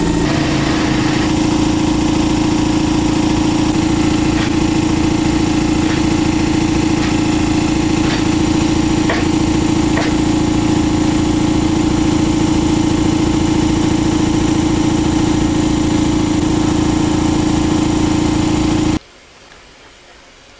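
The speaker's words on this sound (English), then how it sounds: "Uses compressed air to pump hydraulic fluid into whatever implement you want, such as this portapower cylinder" An air-driven hydraulic pump drones steadily and loudly, forcing fluid into a 10,000 PSI portapower cylinder during destructive testing of a homemade oil plug, with a constant motor-like hum throughout that cuts off abruptly near the end.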